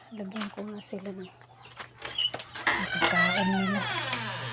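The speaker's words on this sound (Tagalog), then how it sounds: "Gusto na naman kumain ng mga manok." Chickens cluck in short bursts close by while being fed, their calls mixed with someone talking over them.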